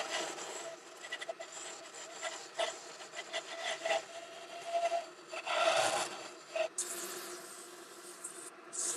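Wood is shaped into a taper on a lathe, giving close scraping and rasping bursts of varying loudness as the tool cuts the spinning piece, ending in a brighter hiss near the end.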